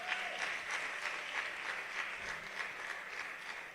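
Audience applause at a university event honouring guests and department staff, a fairly faint, even patter of clapping from a seated crowd lasting a few seconds.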